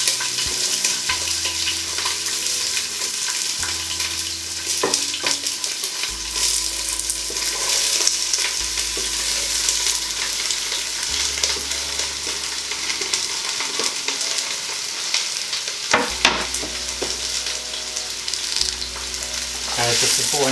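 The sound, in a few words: red cabbage and vegetables sizzling in a stir-fry pan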